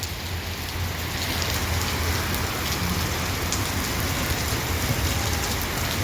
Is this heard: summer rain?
yes